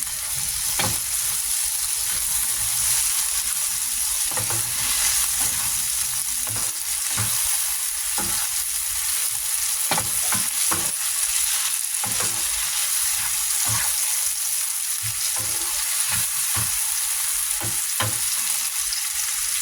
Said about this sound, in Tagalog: Lutuin lang natin ng bahagya yung kamatis at sibuyas.